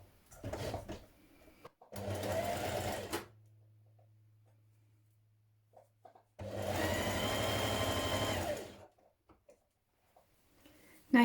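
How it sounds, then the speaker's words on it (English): A sewing machine stitches a back seam on a top in two steady bursts of whirring, with a quiet pause between them. "I'm just going to go straight in and sew this together."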